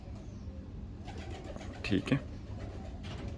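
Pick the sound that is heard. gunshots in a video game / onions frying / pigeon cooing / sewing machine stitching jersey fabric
pigeon cooing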